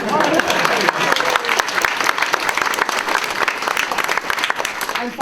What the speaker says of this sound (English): Does he get another round of applause?